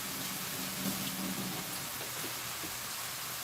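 Tap water running steadily in a home kitchen while fingers are rinsed, a continuous broadband rush that stays even and fairly quiet throughout.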